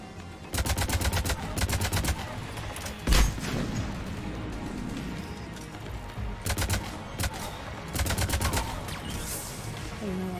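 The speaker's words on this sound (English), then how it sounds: "I don't know what I'm shooting at." Rapid automatic gunfire in Mass Effect 3 combat, repeated bursts of fast rattling shots with a heavy thud between them, loud and close over game ambience.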